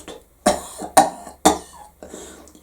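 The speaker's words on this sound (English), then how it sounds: "suddenly, from the dark behind them, a man coughed." Three sharp, close coughs from a man, evenly spaced about half a second apart, followed by a fainter rustle in a quiet room.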